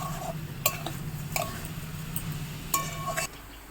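Coconut and sugar stirred in a pan for coconut laddu, a few sharp metallic scrapes and clinks of a utensil against the pan over a low steady hum, close and moderately quiet.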